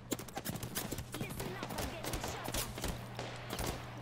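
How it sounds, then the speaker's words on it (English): Gunfire in the video game Apex Legends, a rapid string of sharp shots crackling through the mix, some near and some farther off, under a steady low hum. "Well, I'm getting shot at."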